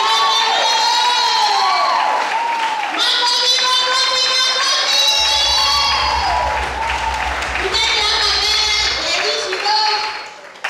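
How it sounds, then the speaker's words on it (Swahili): A church congregation claps and cheers loudly, with lively shouts and whoops riding over sustained applause that swells in waves and tapers off near the end. "Tuwapigie makofi mazuri."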